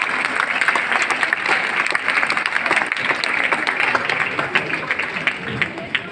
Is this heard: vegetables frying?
no